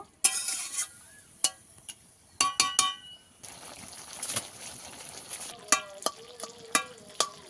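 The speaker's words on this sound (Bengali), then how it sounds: "এখানে আমি এক বাটি জল দিয়ে দিচ্ছি সব কিছু ভালোভাবে এবার সিদ্ধ করে নেব" Tuna fish head and eggplant curry sits in a pan after water is added, with a soft, steady sizzle and bubbling broken by sharp metallic clinks and scrapes of a spoon against the pan.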